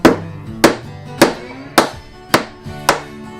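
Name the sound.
hammering a punch onto bullet shell primer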